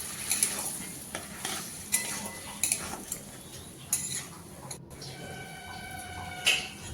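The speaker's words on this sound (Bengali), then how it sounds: "দিয়ে দিচ্ছি চালের গুঁড়ি।" Cabbage fries in a pan and is stirred after rice flour mixed with water is added for a Bengali cabbage ghonto with peas and catla fish head, giving steady sizzling with repeated clinks and scrapes of a utensil against the pan.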